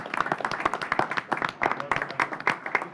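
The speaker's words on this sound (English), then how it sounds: "Let's give him a round of applause, everybody." An audience at a county board of commissioners meeting claps for a staff member, a fairly close, steady round of applause from several people with sharp, uneven hand claps.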